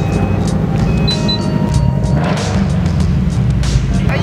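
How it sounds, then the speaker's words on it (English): Loud cars rumble together in a parking garage, a steady heavy engine drone filling the space with brief higher whines and tones over it, sustained and close throughout. "Having a lot of loud cars in one parking garage"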